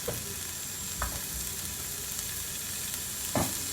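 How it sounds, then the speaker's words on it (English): Ginger and garlic sautéing in a pan give a steady, soft sizzle throughout, with a few light clicks of stirring, close up and with no voices. "I'm just gonna allow it to saute for at least 2 minutes"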